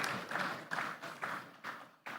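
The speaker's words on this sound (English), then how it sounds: "Please give the panelists and the moderator another round of applause." A conference audience applauds panelists and their moderator at a renewable energy investment forum in Nigeria, the clapping fairly faint and patchy in a large hall, swelling in short bursts.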